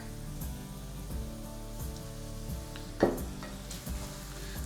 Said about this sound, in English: We're gonna deglaze that off.